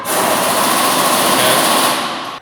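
A Tekton 24mm impact wrench runs in one steady, loud, high-pitched whirring burst of about two seconds, then winds down and stops.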